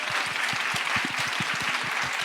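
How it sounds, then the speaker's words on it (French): A live audience at a French talk event applauds in a brief, continuous burst of clapping, moderately quiet and even, with no speech over it. "vous applaudissez"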